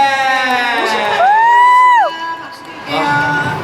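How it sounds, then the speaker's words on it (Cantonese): A cheering crowd at a 2016 concert in Hong Kong, loud and close, with a long rising whoop carried over dense voices. The noise dips briefly, then swells back up. "一齊俾啲掌聲大聲"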